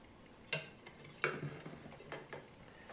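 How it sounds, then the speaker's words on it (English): Loosening a set screw with an Allen key on a Caframo 802 stirrer, then sliding the blade off the shaft: a few faint metallic clicks and scrapes, close and quiet, with no talking. "Turn it counterclockwise to loosen the set screw, and now the blade simply slides off the shaft."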